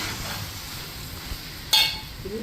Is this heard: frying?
yes